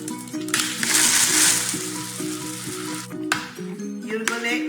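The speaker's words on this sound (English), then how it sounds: "You put the rice inside and then close it with the cap" Dry rice grains poured through a funnel into a plastic bottle for a homemade maraca, a bright hissing patter of grains under a soft melodic music backing, with a few clicks near the end.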